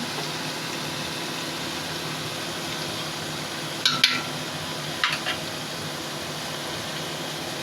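Spices cooking in a pan for chicken kosha, a soft continuous sizzle under a couple of brief scraping clinks from a spoon stirring against the pan.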